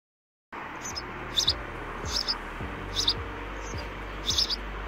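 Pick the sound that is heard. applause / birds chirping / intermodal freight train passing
birds chirping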